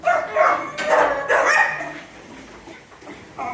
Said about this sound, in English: He's just a gorgeous nature dog.